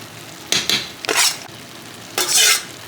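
Fried raisins and carrots are added to Afghani pulao and stirred through the rice. Three or four close scraping stir strokes rise over a faint background sizzle, with no voices.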